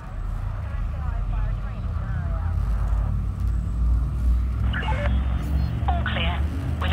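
The frame shift drive of a spaceship in Elite Dangerous charges up as a deep, swelling engine rumble that builds steadily, while a synthetic voice speaks briefly over it near the end.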